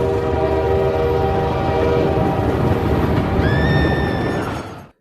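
A train rumbles past at a railway crossing in a film scene, a loud continuous roll with a sustained horn blast near the end before the sound cuts off abruptly.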